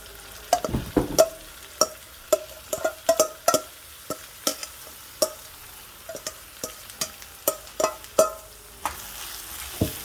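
Smoked herring fries in a pan, a soft sizzle punctuated by many sharp clacks and scrapes of a utensil stirring against the pan, close and irregular.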